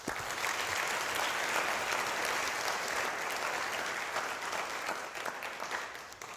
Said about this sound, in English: So one more round of applause for his team.